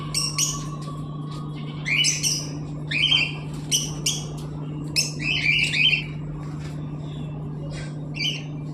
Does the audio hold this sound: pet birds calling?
yes